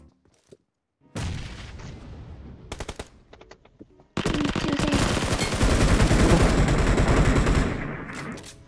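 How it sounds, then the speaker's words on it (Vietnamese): Gunfire in PUBG Mobile: a few sharp isolated shots, then a long sustained burst of rapid automatic fire that swells louder toward the end, heard alone without talk. "Trời ơi, nó bắn từ nhà bên kia sang luôn ạ."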